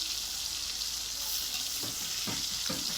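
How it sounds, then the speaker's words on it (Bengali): Fish curry ingredients frying in a black pan over a wood fire, a steady close sizzle with a few scraping stirs toward the end, no talking. "তো দেখো কি সুন্দর করে ভাজা হচ্ছে"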